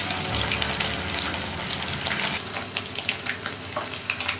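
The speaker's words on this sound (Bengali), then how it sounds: "মাছটা মোটামুটি ভাজা হয়ে এসেছে।" Scaleless amudi fish fries in hot oil, a steady close sizzle with small crackling pops and spatters that grow more frequent toward the end, no talking.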